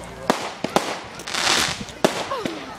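Fireworks and firecrackers on bonfire night give several sharp bangs and crackles spread across a few seconds, fairly close, with a crackling burst in the middle and voices talking between the blasts.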